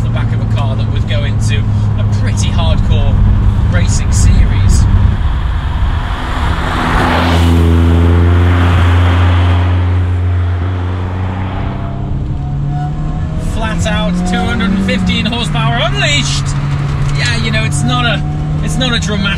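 A car engine and gearbox while driving, the road-car counterpart of a hardcore racing-series model: a steady low drone that climbs and shifts in pitch through gear changes, with someone talking over it much of the time.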